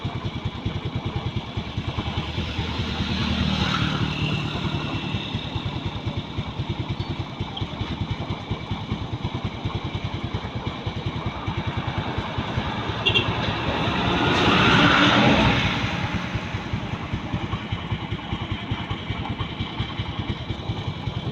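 A steady, low motorcycle engine rumble idles continuously throughout, with a slight swell in revving at a couple of points.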